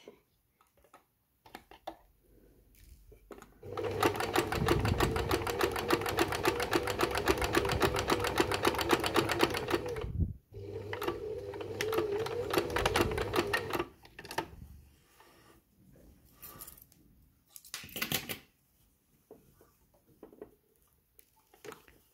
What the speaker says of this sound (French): donc là j'ai bien piqué sur mes lignes de couture